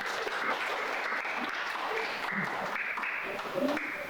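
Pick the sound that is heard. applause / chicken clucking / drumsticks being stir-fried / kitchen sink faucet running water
applause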